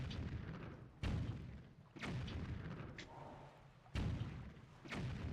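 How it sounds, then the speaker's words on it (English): Cannon blasts in The Legend of Zelda: The Wind Waker, four deep booming thuds about a second apart, each with a short rumbling decay, fairly quiet with no talk. "I could just blow those open with the cannon"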